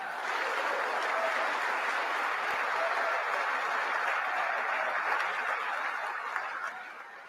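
A seated audience at a political speech rises and applauds, a dense, steady wash of clapping that holds for several seconds before tapering slightly near the end, with a few scattered cheers mixed in.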